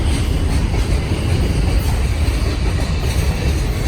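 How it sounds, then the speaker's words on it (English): A long freight train with distributed power rumbles past close by in Montreal, a loud continuous roar of rolling wheels and rattling cars with rhythmic clacking on the rails. "Distributed power always means long train."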